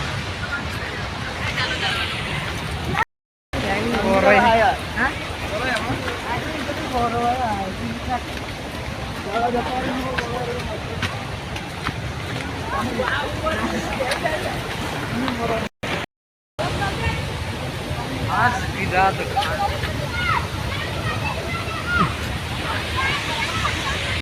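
Water rushes steadily through a stream in a continuous broadband wash, with several voices chatting over it throughout.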